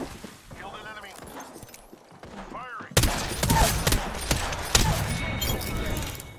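Video game gunfire erupts suddenly as a dense, loud volley of rapid shots continuing to the end, following a stretch of quieter game sounds and voice lines.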